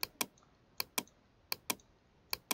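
Computer keys clack in quick pairs, eight crisp presses in a loose rhythm, close and quiet with silence between.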